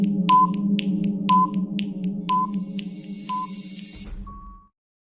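A quiz countdown timer sound effect plays alone: a run of evenly spaced electronic beeps about once per second over a steady low hum. It ends on a short high tone, then cuts to silence.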